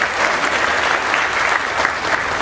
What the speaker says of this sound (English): so give yourselves a big hand